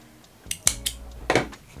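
Scissors snip through crochet yarn in a few short, crisp metallic clicks, close and alone.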